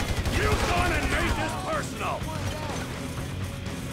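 Rapid gunfire from the video game GTA V during a zombie fight at a drug lab, dense volleys of shots mixed with game sound and crashes, loudest in the first second and continuing steadily under a voice.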